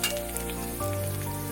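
Chopped kalmi greens hit hot oil with onion, garlic and chilli, giving a short, steady frying hiss with light stirring.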